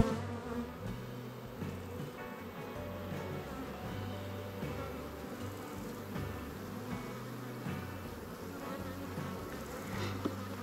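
A Buckfast honey bee colony hums steadily at close range, a dense, continuous buzz with no voices over it.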